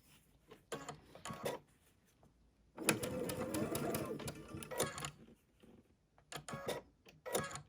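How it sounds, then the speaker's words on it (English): A sewing machine stitches a quilt block piece for a butterfly quilt in short bursts, quick whirring runs of needle clatter with a longer run in the middle, close and moderately quiet, separated by pauses. "now I'm going to sew this one on"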